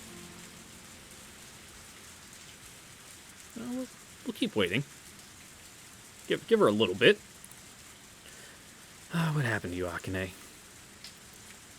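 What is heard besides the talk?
rain sound effect from the video game ONE: Kagayaku Kisetsu e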